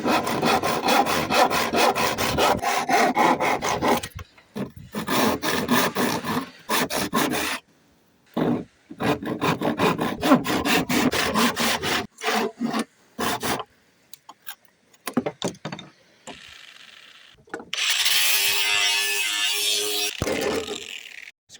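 A hand saw cuts through wood during a repair on a beach-found outrigger boat, making loud, close rhythmic rasping strokes in several runs broken by short pauses.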